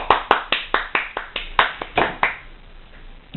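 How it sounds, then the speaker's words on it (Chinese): Applause for a prize-draw winner at a company lucky-draw event, a brief burst of about a dozen sharp, uneven hand claps close by that thins out and fades to quiet room noise. "掌声恭喜他！"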